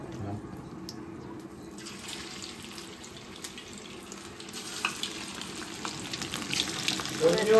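Chicken frying in hot oil for a chilli chicken dish sizzles in a steady hiss that starts quietly and swells louder toward the end, with faint kitchen clatter.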